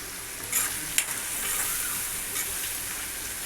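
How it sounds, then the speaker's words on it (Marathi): Onion frying in a pan for soybean bhurji, a soft steady sizzle close by with a few stirring scrapes and light clinks near the start, no voices. "तर आता ह्या ठिकाणी मस्त आपला कांदा थोडाफार फ्राय झालेला आहे"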